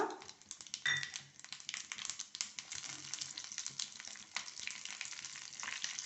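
Crushed garlic added to hot oil for a tempering in a cucumber tambuli yogurt curry, sizzling and crackling steadily and close up, with faint scraping and stirring clatter and no voices.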